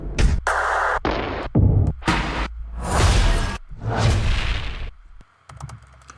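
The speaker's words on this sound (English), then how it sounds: "Let's add some more rises and stuff." Rising whoosh-style riser effects auditioned in a music production session, several loud sweeping bursts in a row with abrupt cuts between them, closing with short clicky hits.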